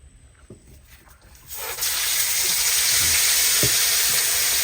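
Bele fish frying in a pan: after a quieter start with light clinks, a loud, steady sizzle of hot oil swells in and holds, with occasional soft taps beneath it.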